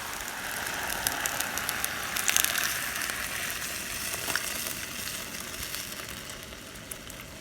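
A soft, steady sizzle and bubble of broth meeting black pepper, paprika and cayenne seasoning in a Le Creuset 2-1/4 qt saucepan, with faint clinks and stirring scrapes, fairly quiet and without talk.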